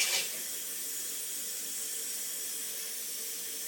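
Water runs from a tap as a faint, even hiss that holds steady throughout, with a slightly louder splash at the very start and no talking.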